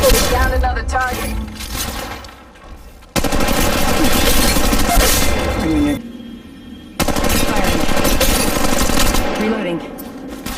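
Rapid bursts of automatic gunfire in an Android shooter video game come in loud, dense volleys, broken by two short lulls before the shooting starts again.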